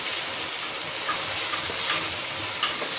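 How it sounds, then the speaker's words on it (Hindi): Whole spices and a cinnamon piece frying in a pot of salan curry, a steady close sizzle throughout with no talking. "अब इन तमाम मसाला जात को हम सालन के अंदर ऐड कर लेंगे और इसकी अच्छी सी भुनाई करेंगे।"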